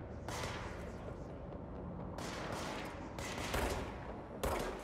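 Bursts of gunfire from the video game Control, with dense broadband volleys starting and stopping in several rapid waves over a continuous noisy backdrop, loud and close.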